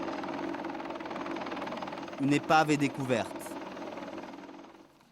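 A police helicopter over a farm during a search for stolen vehicles, giving a steady rotor and engine drone throughout, with someone speaking French over it in the middle.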